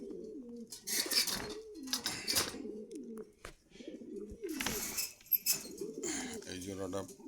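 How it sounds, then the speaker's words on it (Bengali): Pigeons cooing in caged pairs at a bird market in Meradia Bazar, Khilgaon, Dhaka, low rolling coos recurring through the clip amid background market bustle. "খুব সুন্দর এক জোড়া কবুতর।"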